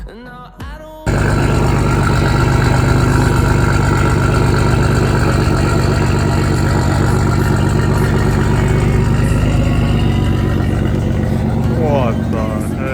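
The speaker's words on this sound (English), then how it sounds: "I also bought an exhaust, the Eco-Length mid-pipe to a single exit, and it sounds really good" A BMW M4 engine with an Eco-Length mid-pipe and single exit exhaust starts up and settles into a loud, steady idle with a deep rumble, close by for the whole stretch.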